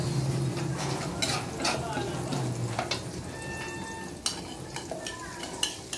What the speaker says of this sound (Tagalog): lagay na po natin ng bawang at sibuyas